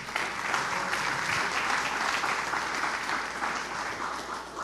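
A church congregation claps together in praise, a dense, even round of applause filling the room for several seconds, with no voices heard over it.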